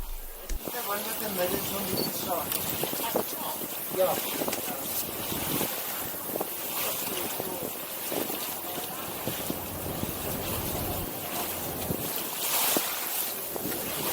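A small tour boat cruising over harbour water in South Africa, with steady engine and water noise, wind buffeting the microphone, and voices talking intermittently underneath.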